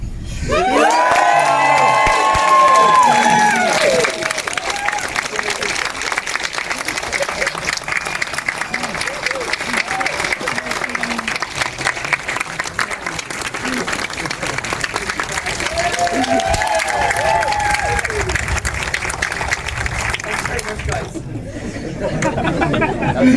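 Audience at the Athlone Film Festival in Ireland applauding and cheering in a crowded hall, sustained loud clapping with shouts and chatter throughout, a voice briefly audible at the start.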